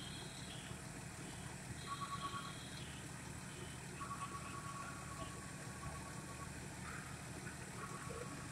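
A fire engine idles at a house fire in Amesbury, a steady mid-range engine rumble running throughout, with faint intermittent tonal beeps and distant voices in the background.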